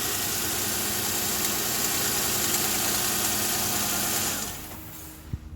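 A 2006 Nissan Maxima 3.5 liter engine with a new alternator idles with a steady, close hum, then drops off sharply near the end as it shuts down, followed by a faint knock.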